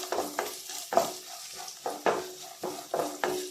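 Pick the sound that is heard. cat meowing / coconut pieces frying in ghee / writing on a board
coconut pieces frying in ghee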